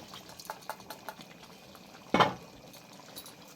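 Water splashes into a pressure cooker in a home kitchen during the making of ghugni with chicken fat: one short, close, splashy burst after a few faint taps, with no voices.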